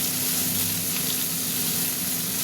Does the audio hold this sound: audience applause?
no